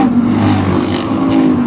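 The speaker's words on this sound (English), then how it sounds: "What a move in the middle of the field here in the early going of this Freedom Village Thunder Car main event." Thunder Car race cars roar around an oval track in a main event, a loud sustained engine drone with steady tones as the pack passes close by.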